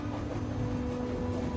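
A steady rumbling train in Telltale's The Walking Dead, continuous low drone with a faint rhythmic rattle and a sustained tonal hum, heard alone and fairly close throughout.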